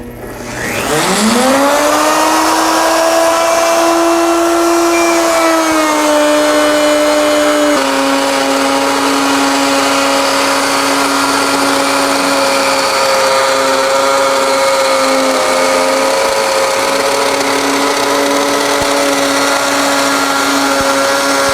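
A router cutting a two-start barley twist into a wooden candlestick holder, a loud, steady high whine that spins up sharply at the start, then holds a constant pitch with a slight drop partway through, with no talking.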